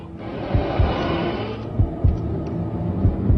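Heartbeat sound effect standing for a haunted mattress breathing with a pulse, giving evenly spaced low thumps over a droning hum, loud and close with no speech.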